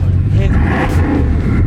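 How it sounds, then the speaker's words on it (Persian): A Bugatti Chiron's 16-cylinder engine revs hard, a loud, dense low growl that stays steady through the short burst. "بچا بوگاتی شیرون 16 سیلندر."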